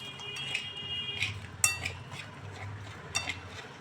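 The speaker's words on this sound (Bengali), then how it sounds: "আস্তে আস্তে দিয়ে ভালো করে মিশিয়ে মিশ্রণটি ফেটিয়ে নেব" Malpua batter of milk, semolina and flour is whisked in a bowl, with soft steady stirring and a few sharp clinks of a utensil against the rim, close and fairly quiet.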